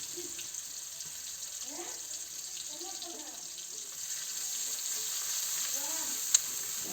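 Onions fry in a pan for a greens dish with a faint steady sizzle, while a utensil scrapes and stirs in short sweeping strokes, fairly quiet and close.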